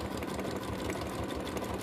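A sewing machine stitches a tote bag in a fast, even run of mechanical clatter that holds steady throughout, quiet and close with no talk.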